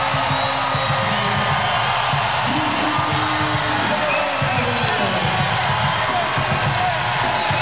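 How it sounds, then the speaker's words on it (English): A crowd at the Stan Sheriff Center cheers loudly and continuously at a men's college volleyball match after an ace, a dense roar of voices and whoops that stays at full volume throughout. "a little bit of fuss and volume now being put together by the Stan Sheriff Center crowd"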